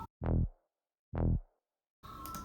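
Two short, dry, buzzy low saw-wave bass synth notes without effects, each separated by silence, before a different, busier sound cuts in at the end.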